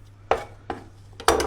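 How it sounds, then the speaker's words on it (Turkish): Knife chopping ingredients for bonito fish patties on a board, three distinct sharp chops spaced unevenly, the last one heaviest, close and clear with no talk. "Şöyle doğrayayım iyice."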